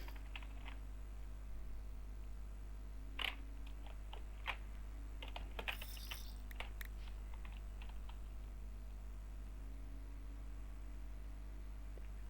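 Quiet keystrokes on a computer keyboard, scattered light clicks in irregular bursts over a steady low hum, close by and faint.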